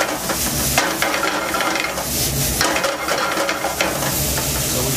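Bacon and mushrooms fry in a pan for a chicken coq au vin, a steady close sizzle with scraping and stirring against the pan bottom throughout, no voices.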